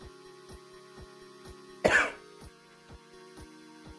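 A single sharp cough breaks through a steady backdrop of faint, regular ticking and a low hum.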